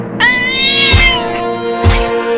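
Cartoon cat gives a bright, drawn-out meow, loud and close, followed by two short thumps, with no talking.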